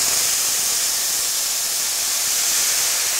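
Red wine hits a hot skillet after searing beef, giving a loud, continuous steamy hiss that holds steady throughout with no talking.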